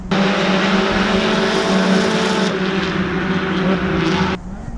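A supercharged Mazda ND Miata is driven hard in third gear up a race track straight, its engine roaring loud and steady with a rising tone before the throttle lifts near the end.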